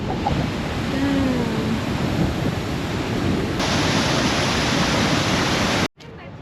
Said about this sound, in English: I've actually never seen a waterfall from like up top before